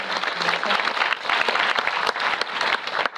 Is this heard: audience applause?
yes